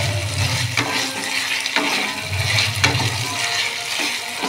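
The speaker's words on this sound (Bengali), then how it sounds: "আলুটাকে খুব ভালো করে কষিয়ে নেব।" Lightly parboiled potatoes stirred and fried in a thick spice masala for an egg-potato curry, giving a continuous close sizzle with recurring scraping strokes of the spoon.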